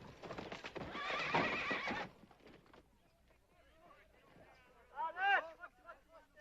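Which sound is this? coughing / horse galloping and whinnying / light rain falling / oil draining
horse galloping and whinnying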